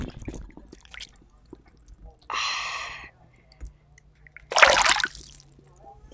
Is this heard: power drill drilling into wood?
no